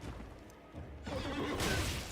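Donkey-like braying call in the video game Elden Ring, a short whinnying cry followed by a louder noisy burst of game sound, with no talk over it.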